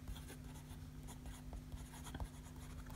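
A fountain pen scratches across Japanese Kunisawa notebook paper in soft, close strokes with a steady rhythm, quiet and alone against a faint hum.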